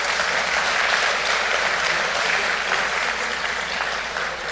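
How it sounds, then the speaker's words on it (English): Loud, steady audience applause fills the hall at a singing contest grand final, a dense, continuous wash of clapping that holds evenly throughout with no talking over it. "I think they all deserve a lusty round of applause."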